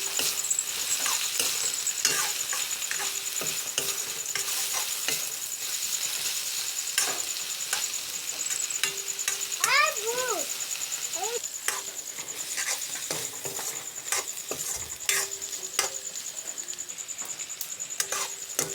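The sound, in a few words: stirring dried fish frying with fiddlehead fern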